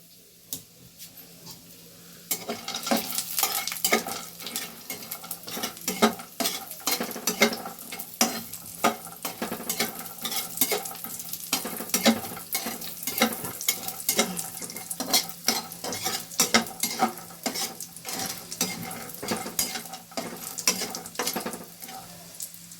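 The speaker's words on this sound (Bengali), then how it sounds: "বড়িগুলোকে একটু ভেজে নিচ্ছি।" Loud, crackling oil spatters as lentil dumplings fry, joined by frequent spoon scrapes and clinks against the pan; no one speaks.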